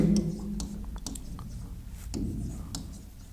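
Chalk or marker scratches across a board in an accounting lesson, short strokes in an irregular rhythm, close and fairly clear, with faint low background sound.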